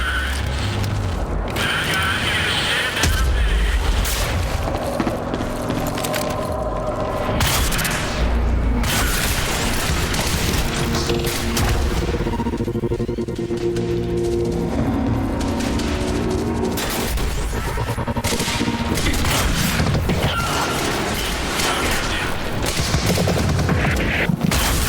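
Explosions and gunfire in Quantum Break, a constant loud barrage of booms, mechanical clatter and rapid shots filling the whole stretch without talk.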